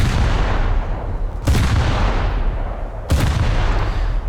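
Gunfire in a naval video game with destroyers: three heavy, booming shots spaced about one and a half seconds apart, each with a long decaying rumble over a loud, constant background roar.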